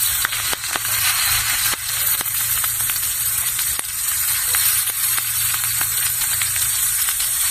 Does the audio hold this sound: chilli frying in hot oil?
yes